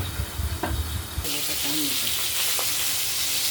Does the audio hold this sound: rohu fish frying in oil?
yes